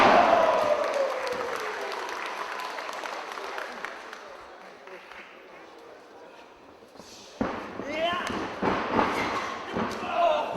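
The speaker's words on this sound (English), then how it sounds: "Knife edge chops." Knife-edge chops trade in a wrestling match between two wrestlers, the sharp slaps landing as a few loud smacks late on over crowd noise, with a commentator talking throughout.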